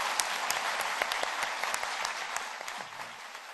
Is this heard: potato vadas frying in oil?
no